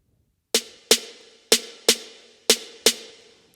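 Six accent snare strikes in an Afro House mix, EQ'd with an 8K boost and compressed, snap out in a syncopated rhythm, crisp and punchy with brief tails, slightly louder and alone.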